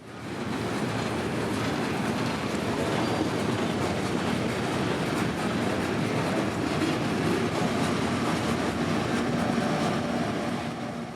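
Freight train M452 backs a cut of rock cars into the north yard lead in Florida, a steady loud rumble of rolling wheels and rail noise with faint clicking, continuous and close with no talking.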